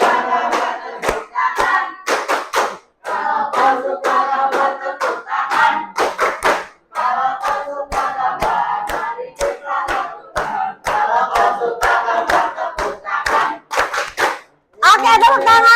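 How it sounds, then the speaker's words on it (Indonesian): An audience in a classroom-style training session claps hands in a quick, rhythmic pattern of sharp, loud claps, with voices chanting and talking along between the beats. "tepuk tangan"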